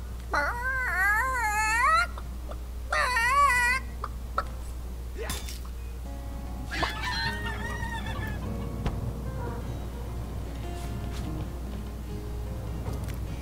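Clucking chicken calls from the video game Divinity: Original Sin, two bursts of warbling clucks close by in the first few seconds, then quieter scattered sounds over a steady low hum.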